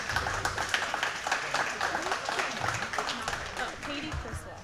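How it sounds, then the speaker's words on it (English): Audience applause fills a junior fair goat show arena after market boar goat placings, steady clapping from a crowd lasting several seconds with some voices mixed in. "Let's give them all a nice round of applause."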